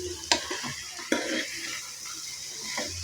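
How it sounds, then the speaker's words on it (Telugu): Cauliflower egg curry is stirred in a hot pan with a spoon, producing a steady sizzle and soft scraping with a couple of sharper clinks against the pan, close up with no talk. "బాగా కలుపుకోవాలి ఫ్రెండ్స్ కర్రీ."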